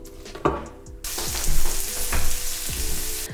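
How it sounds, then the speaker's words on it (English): Onion and garlic sizzle loudly in hot olive oil in a pan, a dense steady hiss broken by several stirring scrapes, with no voice heard. "Heat some olive oil in a pan, then add onion and garlic"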